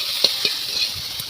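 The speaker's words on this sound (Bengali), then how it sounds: "আলু আর ডিম ফ্রাই ভাজা হচ্ছে" Potatoes and eggs fry in a pan in a home kitchen, a brief, close, even sizzle with a couple of faint clicks.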